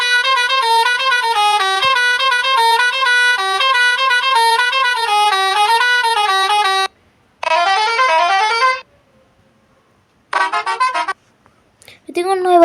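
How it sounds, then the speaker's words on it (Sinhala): Custom musical horns fitted on a restored bus blare a loud, tuneful melody of sustained tones, then a rising run of notes, then a shorter burst, with pauses between. "ඉතින් ඔන්න ඔය වගේ හෝන්ස් ටිකක් දාගත්තා"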